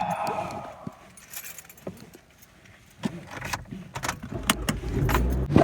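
Keys jangle inside a car in short, bright metallic bursts that cluster toward the end, over a low cabin rumble and scattered handling noises.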